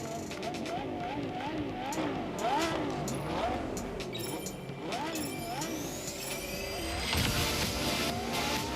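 Race cars in Test Drive Unlimited Solar Crown, engines revving and shifting through gears with sweeping pitch changes, a whoosh of passing traffic and a loud surge toward the end, with a voice talking over it.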